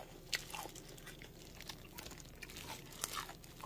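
Crisp, crunchy bites and chewing of mustard-leaf kimchi (gat kimchi) eaten with radish, close and quiet, with a few sharp crunches standing out over soft mastication.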